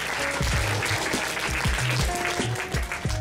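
Audience applause and cheering at an NHS awards ceremony, loud continuous clapping from a crowded room with whoops and voices mixed in.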